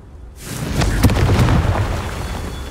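A loud, close explosion from the Confringo spell in the Hogwarts Legacy video game erupts after a brief quiet start, then rumbles and crackles for a couple of seconds.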